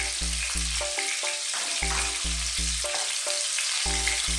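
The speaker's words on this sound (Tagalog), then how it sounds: "Dito po tayo sa side magsusute, magigisa ng garlic at sibuyas" Garlic sautés in a pan beside browned pork, a steady sizzle running under rhythmic background music that carries on throughout.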